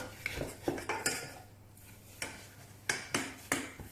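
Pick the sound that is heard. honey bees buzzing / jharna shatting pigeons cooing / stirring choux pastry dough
stirring choux pastry dough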